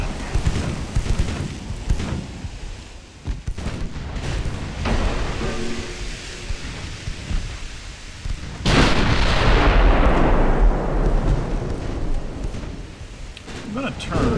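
Broadside from an 8-inch battleship gun in the naval game Ultimate Admiral Dreadnoughts, a sudden loud boom near the middle followed by a long rumbling, rain-like roar, over ongoing battle noise and talk.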